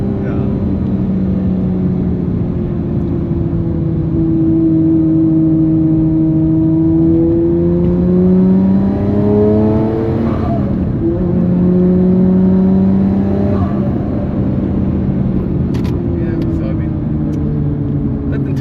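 A 1999 Nissan R34 GTR V-Spec engine revving and accelerating, heard from inside the cabin with intake noise. A continuous loud drone climbs, falls and climbs again through several rev sweeps.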